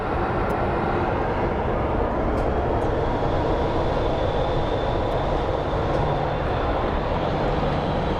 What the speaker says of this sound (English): The American Airlines flights are kind of getting ready to depart.